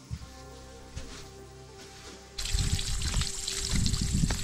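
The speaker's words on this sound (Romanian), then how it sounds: "chiar acesta este izvorul de care vă spuneam mai devreme." Mountain spring water trickling and splashing near a guesthouse in Bucovina, Romania: a quiet steady flow that suddenly turns into a louder, fuller rush of running water partway through, with no voices.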